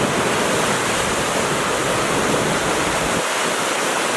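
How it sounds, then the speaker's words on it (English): Loud, continuous rushing of a river flowing through the Bavarian town of Landsberg am Lech in Germany, a dense, even roar close by with no voices. "listen to the rushing water"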